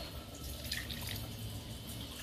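Water is poured into a cooking pot for rice, a faint, continuous splashing trickle lasting a couple of seconds. It is quiet and close, with no talking.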